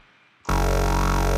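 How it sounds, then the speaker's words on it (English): A synth bass built in NI Massive enters abruptly after a brief quiet moment, then sustains as a loud, thick, buzzing tone with a slowly wobbling upper edge. "So yeah, it's just kind of like a bland kind of bass."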